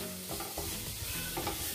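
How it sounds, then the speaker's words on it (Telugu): Maggi noodles frying with curry leaves in a little oil over a low flame give a soft, steady sizzle, stirred a few times with light scraping and no talking. "లో ఫ్లేమ్ లో అందుకనే కుక్ చేస్తున్నా। ఫ్రై చేస్తున్నా"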